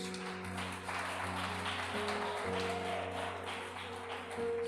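Congregation at a church worship service clapping steadily together over sustained organ or keyboard music, a dense continuous wash of hands at moderate loudness with no talking.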